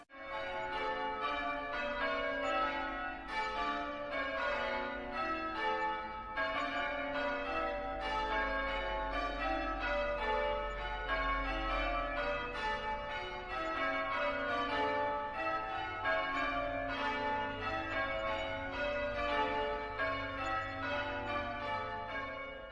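Great church bells peal without pause, several bells of different pitch striking in a dense overlapping rhythm with long ringing tails, steady and fairly loud throughout, with no voices.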